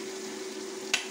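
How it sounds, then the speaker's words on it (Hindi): Chopped tomatoes cooking in a pan give a steady, even sizzling hiss while being mixed, with a single brief clink of a utensil near the end. "मिक्स करेंगे और पकाएंगे। टमाटर हो गया अच्छी तरह मिक्स।"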